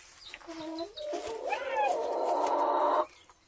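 A rooster crows nearby on a rural farm, a loud drawn-out call that rises and holds before cutting off, preceded by a few short clucks.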